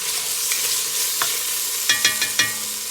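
Venison roast being stirred together with onions and garlic in a hot pan, a steady sizzle under several distinct scraping stirs, close and fairly loud with no talking.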